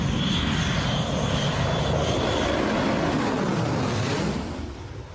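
A B-2 bomber flies past with a loud, steady jet roar that holds for several seconds and then begins to fade as it moves away.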